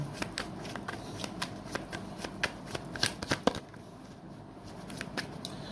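Tarot cards being shuffled by hand in a quiet room, a rapid series of crisp riffling snaps and taps, close and fairly soft.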